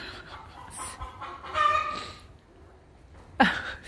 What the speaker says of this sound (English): I'm sorry if you're hearing nonstop barking in the background